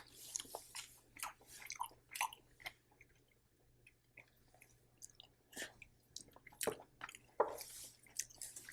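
Someone tastes pork with pickled vegetable gravy at a restaurant, with soft, close chewing, wet squishing and occasional small clinks scattered through a quiet room.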